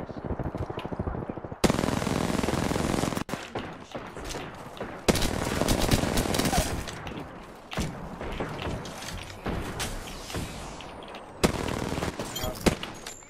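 Video game gunfire from a Wingman pistol and an SMG erupts in rapid automatic bursts and sharp single shots, loud and dense, with short pauses between volleys.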